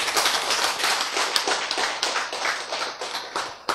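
Dense applause from a church congregation during a sermon, a steady wash of many hands clapping together close by, holding at an even level for several seconds with no voices on top.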